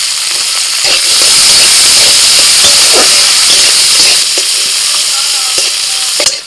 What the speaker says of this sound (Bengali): গাজর আর বিনসটাকেও একটু ভেজে নিই